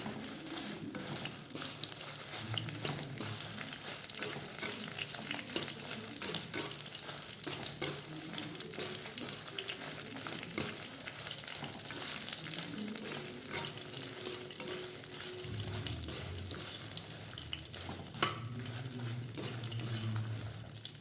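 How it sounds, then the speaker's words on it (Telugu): A half batch of dried red chillies frying in a pan for chutney makes a continuous, close hiss and crackle with occasional stirring clatter, lasting steadily throughout. "ఫ్రై అవుతున్నాయండి ఎండుమిరకాయలు."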